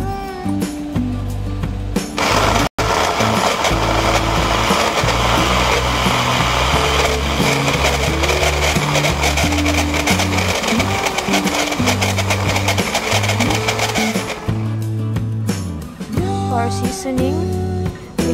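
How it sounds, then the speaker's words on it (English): Kitchen blender grinding garlic, onion and ginger together, a loud steady whir running about twelve seconds between short quieter stretches at the start and end. "I put it all together, guys, inside the machine. So it will be mixed together."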